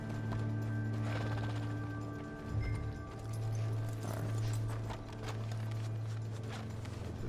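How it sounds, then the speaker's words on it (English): Horse hooves clip-clop in the Red Dead Online video game, a faint, irregular patter over a steady low hum and mechanical clicking. "horse."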